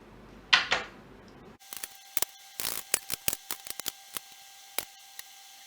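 Tarot cards are shuffled at fast-forwarded speed, a rapid run of sharp, close riffling clicks and snaps, alone without talk.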